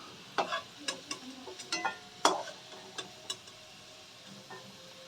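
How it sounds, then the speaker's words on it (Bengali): Potatoes frying in oil, with a series of sharp, close scraping stirs and crackles over a soft sizzle, about a dozen distinct hits in quick irregular rhythm. "আমাদের আলু ভাজা হয়ে গেছে"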